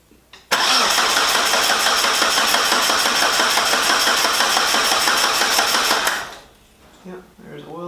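A Mitsubishi 4G64 engine fires up for the first time, starting abruptly and running loud and steady at a fast idle for several seconds before cutting off, followed by faint voices and shuffling.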